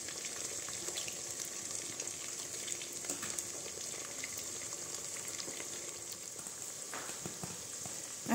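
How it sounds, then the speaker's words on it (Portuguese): Eggs cook in a pan with golden farofa seasonings, giving a soft, continuous sizzle and faint crackle at low volume, with a small clatter at the very end. "eu gosto de deixar o ovo dar uma leve cozinhada aqui pra depois eu vir mexendo"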